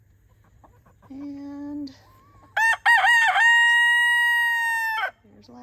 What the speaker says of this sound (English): The chickens are in this paddock now full time.